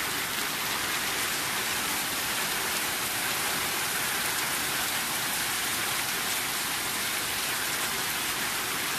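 Heavy rain from a thunderstorm in El Salvador pours down steadily, a dense, continuous hiss of water striking surfaces with no break or other sounds.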